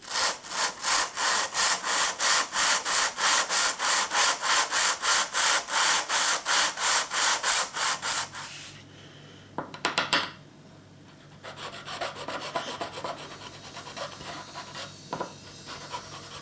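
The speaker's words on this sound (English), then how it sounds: "just using a spirit level with some 400 wet and dry taped to the top of it with double-sided" Guitar frets on a custom Les Paul being leveled with 400-grit wet and dry paper taped to a spirit level: about twenty fast, rhythmic rasping strokes, close and loud, then quiet handling noises.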